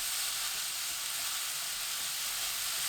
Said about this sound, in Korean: 팬에 식용유 1큰술, 다진 마늘 반큰술, 느타리버섯 넣고 센 불로 1분 볶아줍니다